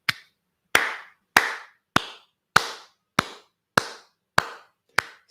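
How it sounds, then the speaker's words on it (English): Nine sharp, single hand claps at an even, unhurried pace of about one every two-thirds of a second, close and crisp against silence. "Slow clap."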